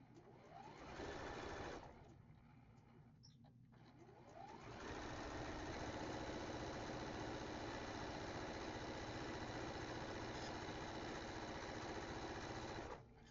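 A sewing machine runs in long continuous bursts while stitching quilt pieces for a double pinwheel block, with a brief pause near the start before a steady, close, loud whir resumes.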